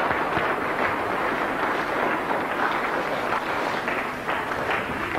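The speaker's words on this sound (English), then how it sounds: "Can we give John a round of applause, please?" Sustained applause from an audience at a snooker exhibition, a dense steady clatter of many hands clapping at fairly even loudness throughout, with no voices standing out.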